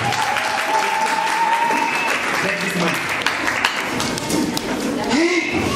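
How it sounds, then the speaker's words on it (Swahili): Audience applause for the family at a launch celebration fills the whole stretch, a steady dense wash of clapping from a crowd, with voices and a few thumps mixed in. "Pigieni family makofi"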